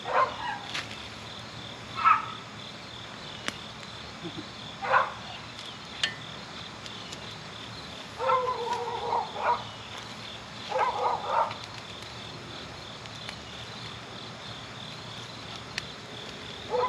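Dogs barking some distance away in a garden being cleared of mulch, a few scattered short barks and yips rising over a steady background of chirping crickets.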